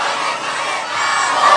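A large crowd at an outdoor Islamic sermon gathering shouts in unison in response to a takbir call, a loud sustained roar of many voices.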